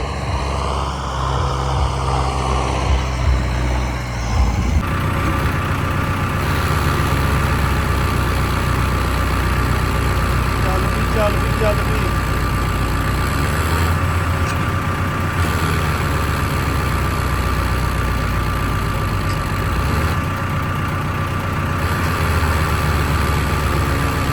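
A steady, rumbling tractor engine idles close by, its low drone unbroken and even for the whole stretch, with no voices.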